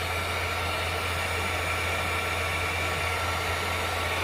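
A heat gun blows hot air onto heat shrink tubing over a wiring connector for an e-locker kit on a 1999 Jeep Wrangler TJ, a steady, loud, unbroken airy roar with a low hum beneath and no talking.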